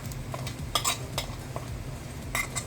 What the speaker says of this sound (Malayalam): ഇനി അതൊന്ന് നന്നായിട്ട് നമുക്കൊന്ന് ഇളക്കാം.